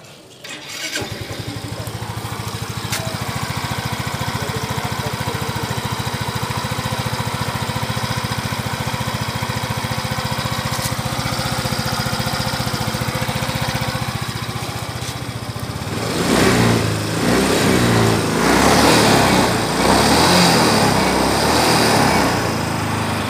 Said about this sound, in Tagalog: Ay, paandarin na natin mga kabro.